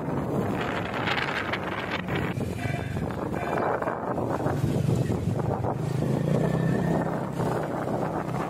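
Strong wind buffeting the microphone outdoors during the windy season, a loud, continuous rumbling roar that surges and eases without letting up.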